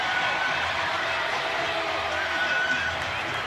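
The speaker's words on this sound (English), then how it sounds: "Listen to this crowd." A large college football stadium crowd at a night game between San Diego State and Washington State roars in a continuous, even wash of cheering, with the student section loud and no distinct breaks.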